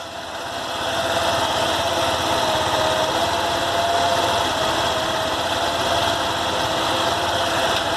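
A motorcycle engine runs steadily during a practical riding test on a training track, with a loud, constant buzzing drone that swells slightly after the first second and then holds.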